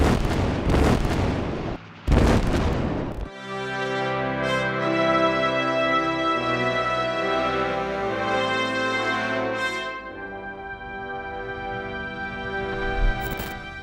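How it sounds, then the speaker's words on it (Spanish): Heavy blasts of a WWII artillery bombardment, a Spanish artillery battalion shelling Soviet positions at Krasny Bor, boom loudly for the first few seconds before sustained orchestral music takes over. "Después de un bombardeo del primer batallón artillero español contra las posiciones soviéticas"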